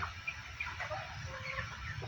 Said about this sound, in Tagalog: ito mga kamisyon yung ating alagang 45 days broiler